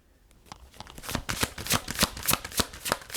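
Tarot cards being shuffled by hand: a rapid run of crisp riffling snaps that starts faint, then grows loud and close in a quick, steady rhythm.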